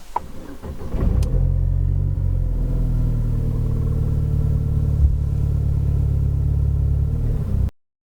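A Saab car pulls away and drives off with a loud, steady mid-pitched engine rumble. The rumble rises after a brief start and holds close until it cuts off.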